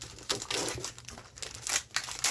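Crisp plastic packaging of a Graphic 45 sticker pack crinkles and rustles up close as it is pulled open, in a quick burst of irregular crackling bursts with no one speaking.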